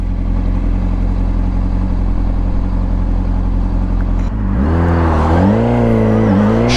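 A car driving along a road on the way to Shipka, its steady engine drone and road rumble continuous and fairly loud, with a shift in engine pitch partway through as it changes speed.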